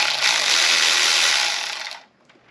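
A 15 mm socket works a nut on a Fiat 124 engine block under disassembly, giving a loud, steady hissing mechanical whir for about two seconds before it cuts off abruptly.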